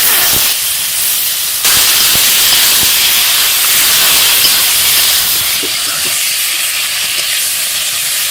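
Cleaned goat tripe goes into hot fried masala with turmeric and salt, raising a loud, dense steamy hiss after a brief quieter start, with scattered soft clicks and bumps throughout.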